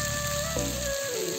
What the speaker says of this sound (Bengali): আর আমি এতে জল দিয়ে দেবো।